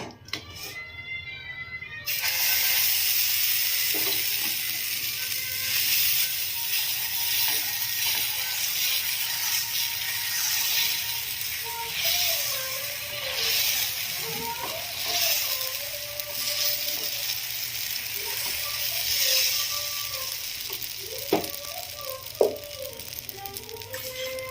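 Millet dosa batter frying on an oiled griddle, a steady broadband hiss and crackle that holds for over twenty seconds, with faint background tones and occasional clicks.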